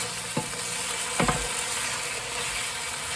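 Teaspoonful of ginger frying in a pan for a fiery curry, a steady bright sizzle running throughout with a couple of short scraping stirs near the start and middle, close and fairly loud, no voices.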